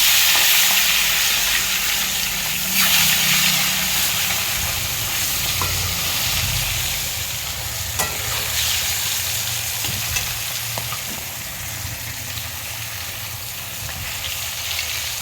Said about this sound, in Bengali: কড়াইয়ের মধ্যে দিয়ে দিলাম এবার মাছগুলো ভাজা হতে থাক।